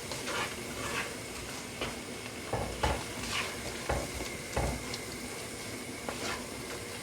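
Meat browning in a pot for Gambian domoda stew, a soft steady sizzle with occasional scraping and stirring knocks from the pan, fairly quiet and close, with no voices.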